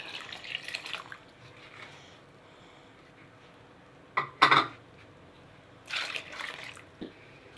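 Milk poured into a pot while making economical Ashura pudding in a home kitchen: brief liquid splashes and pouring bursts near 4 and 6 seconds amid quiet room tone, with soft clatter of kitchenware.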